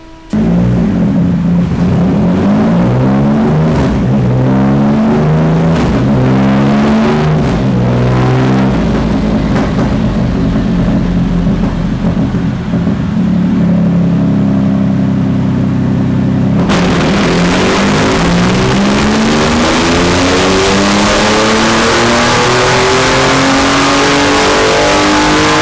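Triumph Rocket 3 motorcycle engine revving hard on a dyno power run, loud and close, with repeated rising and falling rev sweeps before a sustained high-rpm roar in the latter half.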